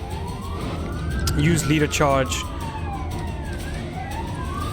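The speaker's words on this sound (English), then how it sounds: "If you hear the sirens in the background, I have to apologize." A wailing emergency siren sweeps up and down in the distance, with a nearby voice talking over it briefly.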